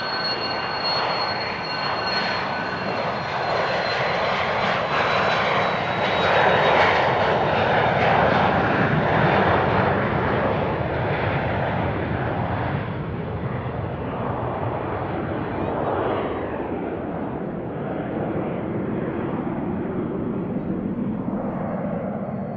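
At Van Nuys Airport, a Cessna aircraft engine roars loudly and steadily, holding a broad drone for over twenty seconds and easing slightly toward the end, with no speech over it.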